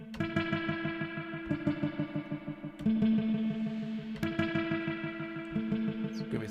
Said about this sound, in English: Give it some loads of spring reverb for that super dub feel.